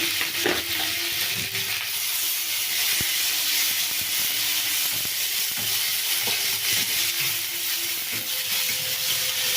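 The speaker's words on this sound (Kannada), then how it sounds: "ಪುದೀನ ಚೆಂದ ಫ್ರೈ ಆಗಲಿ" Mint leaves and tamarind fry in a pan for mint chutney, giving a steady close sizzle broken by scattered clicks and taps from stirring throughout, with no voices.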